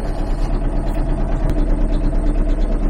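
A car engine idles steadily after being switched on, a continuous low rumble that stays loud and even throughout with no talk over it.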